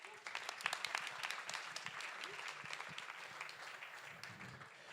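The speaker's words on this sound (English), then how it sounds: "You see her there, a big applause" Applause from an evening tech meetup audience welcoming two speakers, a steady rattle of many hands clapping at moderate distance, with a few voices faintly underneath throughout.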